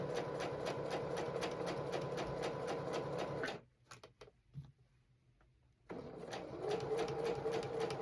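A sewing machine attaching one side of a zipper for a fabric pouch runs with a fast, steady mechanical rattle, stops for a couple of seconds with a few small clicks, then starts stitching again.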